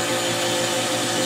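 A kitchen blender whirs steadily while mixing mousse, a continuous loud motor drone running throughout with no speech.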